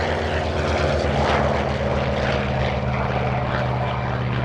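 A Corsair propeller fighter passes at an airshow at Melun-Villaroche with a loud, steady radial-engine drone and prop roar, holding strong and close throughout with no voices.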